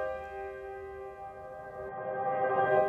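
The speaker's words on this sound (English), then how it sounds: "And you can hear that the sound completely inverts and it creates a new effect." A reversed reverb impulse response from the Convolverb plugin turns a held, bell-like harmonic tone into a swelling effect that grows louder toward the end, with no voices.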